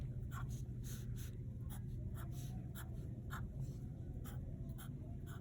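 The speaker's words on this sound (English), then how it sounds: "Okay, so then we're gonna draw guidelines down." A pencil scratches out straight guidelines on paper for a multiview technical drawing, quiet close strokes repeating in short bursts against a steady low hum.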